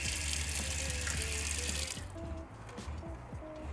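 Tap water runs steadily from the fold-down sink faucet in a Winnebago Travato camper van, fed by the onboard water pump. It is a loud, close hiss for about two seconds and then cuts off abruptly, leaving quiet pump hum and small clicks.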